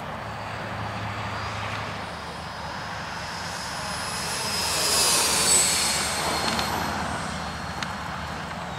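Freewing Mirage 2000 RC jet plane flying overhead, a steady distant ducted-fan whine and rush that swells louder as it passes near, then fades back under outdoor wind.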